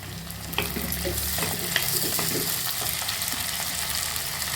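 Tomatoes go into a pan of golden-browned onions frying for a dry fish curry, setting off a steady sizzle. A utensil scrapes and clinks as the pan is stirred, close by, with no talk over it.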